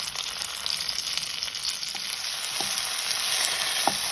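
Garlic and tomato fry in a pan with a continuous crackling sizzle and a few faint taps. The sound is close and steady, growing slightly louder toward the end, with no speech.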